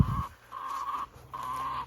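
Chickens in a backyard coop that holds Rhode Island Red, Ancona and Sussex hens make repeated short, tonal calls at a moderate distance, coming in three bursts separated by brief gaps.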